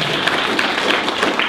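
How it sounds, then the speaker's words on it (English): Audience applause for the speaker Travis at a meeting, a dense, even wash of many hands clapping, steady and fairly loud through the whole short burst. "let's give Travis another one more round of applause"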